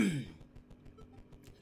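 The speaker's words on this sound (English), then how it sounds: "I keep clearing my throat." A single person clears their throat once, loud and close, followed by soft clicks and faint quiet background.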